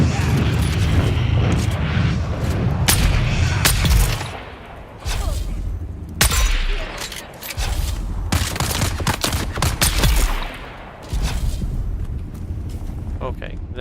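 Rapid bursts of gunfire in Dune Awakening crack out in loud volleys with sharp reports and pauses between them, while a person talks over the shooting.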